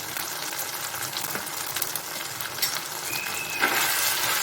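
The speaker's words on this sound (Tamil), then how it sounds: "கொஞ்ச நேரம் வந்து இந்த மிளகாத்தூள்லேயே அது நல்லா வதங்கட்டும்" Curry mixture with chili powder sizzling and frying in a pan, a steady close hiss with occasional stirring scrapes and a brief clink near the end.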